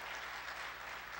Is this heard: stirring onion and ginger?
no